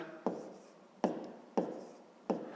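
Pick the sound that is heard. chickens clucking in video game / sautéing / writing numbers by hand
writing numbers by hand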